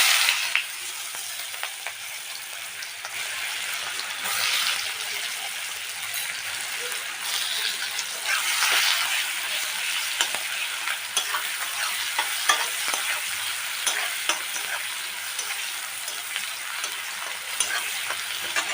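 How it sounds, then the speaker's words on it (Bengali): Sliced onions frying with two bay leaves in hot oil for a Bengali egg curry, a steady bright sizzle close by with occasional spoon scrapes, continuous throughout. "পেঁয়াজগুলো ভাজা হয়ে গেছে"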